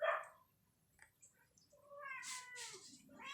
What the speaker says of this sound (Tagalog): Papakain tayo ng mga pusa